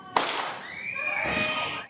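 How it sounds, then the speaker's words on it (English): A single gunshot at night on a suburban street, one sharp crack followed by a long fading echo, distant and moderately loud, heard alone without voices. "Amid the yells and cries for help, a single gunshot."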